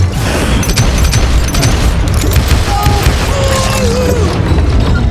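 Gunfire in the Western shooter game Call of Juarez Gunslinger: loud booming shots and rattling impacts in quick succession, dense and close, with game sound effects layered over the top.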